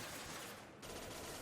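Weapon fire in the Mass Effect game, a very brief burst of rapid, faint automatic shots heard alone.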